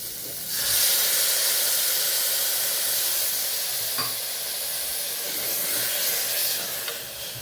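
Steady hissing sizzle of sprouted beans sautéing in a hot pressure cooker, continuous and moderately loud with faint clinks, no talking.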